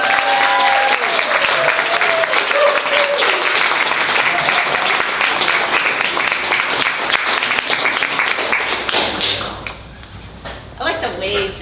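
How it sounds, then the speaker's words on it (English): A book launch audience claps for an introduced author, loud dense applause sustained for several seconds before thinning into a few scattered claps and a voice at the end. "please put your hands together for Miss Jenna Martin."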